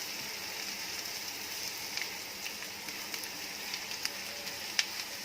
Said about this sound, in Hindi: अब इसमें हम ये क्रश की हुई मूंगफली के दाने डालेंगे।